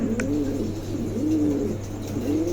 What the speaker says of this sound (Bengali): খুবই চমৎকার একজোড়া কবুতর আছে